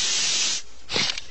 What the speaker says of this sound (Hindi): क्यों ना घर जाने के लिए हम भी स्प्रे का ही यूज करें?